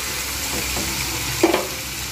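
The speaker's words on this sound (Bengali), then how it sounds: "প্রথমে দেব আমি কচুগুলোকে আমি কিন্তু ভালো করে ভাজবো" Pieces of taro frying in hot oil, a steady close sizzle with a brief clatter of stirring near the end.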